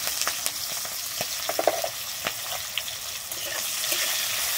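Chopped onion with slit green chillies frying in a pan for a Malabar spinach seed dish, a steady close sizzle broken by scattered pops and small crackles.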